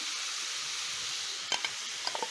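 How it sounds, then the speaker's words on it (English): Minced meat with salt, black pepper and spices sizzles steadily in a hot pan for a homemade pizza, with a few soft scraping stirs near the end, no voices. "Stir in the spices into the minced meat."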